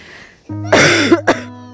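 A child coughs twice, short harsh bursts close by, over a steady low hum.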